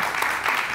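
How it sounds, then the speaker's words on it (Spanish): A studio audience applauds briefly, with a dense, steady patter of clapping throughout. "Un aplauso para Pablo"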